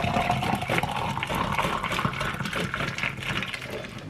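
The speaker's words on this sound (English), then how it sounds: "we're going to take some boiling water and we're going to fill it up" Boiling water pouring steadily into a container to warm it for softening butter, a continuous close, fairly loud liquid rush with a bubbling, gurgling texture throughout.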